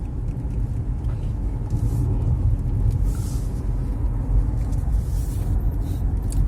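Interior of a Mazda CX-5 cruising at 50 km/h with the engine at about 1000 rpm, a steady low road and engine rumble with faint tire noise throughout.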